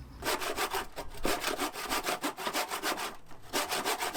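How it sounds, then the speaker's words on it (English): Handsaw cutting through wood at an angle for an outdoor pull-up bar post, a fast, even rasping rhythm of push and pull strokes, close and moderately loud, with no talking. "I found it easier to actually just use a handsaw."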